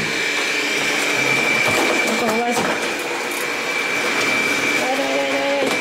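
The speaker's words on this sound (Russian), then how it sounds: "пылесос у меня тут уже работает" A household vacuum cleaner runs steadily close by with a constant whining hum and rushing airflow, while someone speaks briefly over it.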